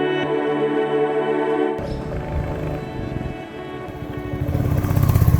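Motorcycle rolling in neutral down a mountain road, giving a steady low mechanical hum and road rumble without revving, growing somewhat rougher and louder toward the end.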